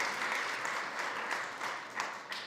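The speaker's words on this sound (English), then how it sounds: "Please give Jared a round of applause for being such a great inspiration." Audience applause at a fireside chat event, a moderately sized crowd clapping steadily, with scattered louder claps standing out as it carries on for a couple of seconds.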